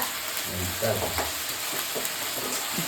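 Onions frying in hot oil in a pan for chicken gravy, a loud steady sizzle close by with occasional stirring knocks and faint background murmurs.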